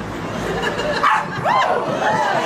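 A dog barks briefly at an outdoor street protest, its yelps rising over crowd chatter and nearby voices.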